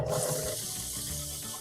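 Water gushes steadily from an opened tap during chicken processing, a constant hissing rush that stays fairly quiet and close, with no voices.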